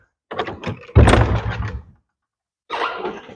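A little wooden door set into a big wall being handled and opened, a few close knocks and thunks followed by a dragging scrape, then a pause and more rattling.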